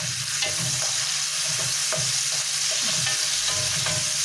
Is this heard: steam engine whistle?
no